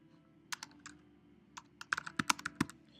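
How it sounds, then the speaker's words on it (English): Typing on a computer keyboard, a scattered run of crisp close key clicks that quickens into a quick cluster of taps near the end, alone in a quiet room. "you'll notice every time I type"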